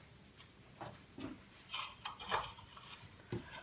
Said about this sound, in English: because these are quite a thick stem, I'm using secateurs to chop them